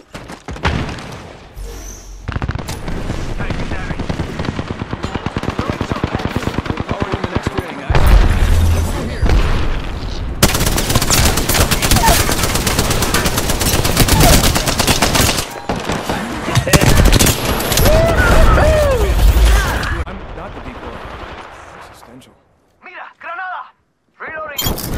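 Continuous automatic gunfire and blasts in Apex Legends, played on a PS4 Pro, loud and dense for most of the stretch with brief gaps, someone talking over it throughout.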